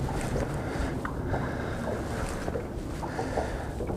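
Wind gusts across open water, buffeting the microphone with steady broadband rushing and faint splashes, no voices.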